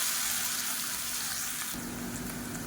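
Three large finely chopped onions added to hot oil with curry leaves: a loud, continuous sizzling hiss that changes and thickens partway through as they hit the pan, then keeps frying steadily.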